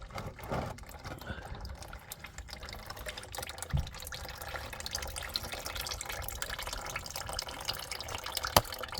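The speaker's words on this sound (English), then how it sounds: "as you let the oil drain out" Motor oil drains from a Hyundai i30 engine into a pan, a steady close trickle and splatter of liquid running throughout with occasional drips and small knocks.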